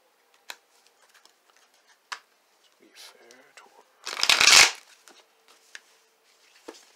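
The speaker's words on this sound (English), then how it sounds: "perfect shuffle" A deck of tarot cards riffled in a quick, crisp shuffle during a tarot reading, one loud close burst of fluttering card edges amid faint ticks and clicks of cards being handled.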